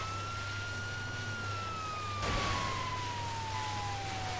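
A police siren in the GTA 5 video game wails continuously, a smooth sweeping tone at moderate level over low background rumble, with no talking.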